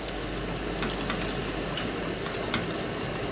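Plain flour cooking in meat juices in a pan for gravy gives a steady, close sizzle and fry noise with light stirring scrapes, continuous and even without talk.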